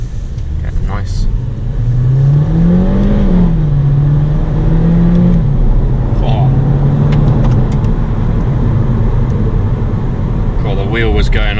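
A 2022 Audi A3 S line accelerating at night with its wheels spinning and losing traction, giving a loud, close, continuous engine roar that rises and wavers in pitch while the car strains for grip.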